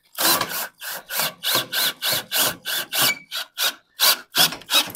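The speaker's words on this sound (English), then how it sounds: "Maybe I will try to drill this one down a little bit" A SnapPad jack pad on a camper or travel trailer is worked on with a tool, giving about a dozen rhythmic rasping strokes in quick succession, close and loud, with short gaps between them.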